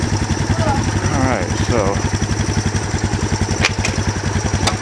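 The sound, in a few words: Honda CT110 motorcycle engine idling out of gear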